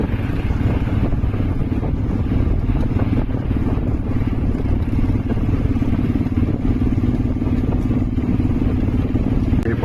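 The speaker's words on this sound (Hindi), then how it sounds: "ये बाइक राइड करना और भी अच्छा लग रहा है।" Motorcycle engine droning steadily while riding a foggy mountain road in Murree, with continuous low rumble and wind buffeting throughout, loud and close.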